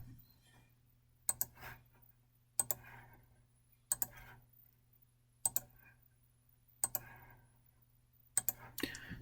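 Mouse buttons and keyboard keys click while drafting in CAD software: quiet paired clicks come at a steady pace about every second and a half, with light key tapping between them.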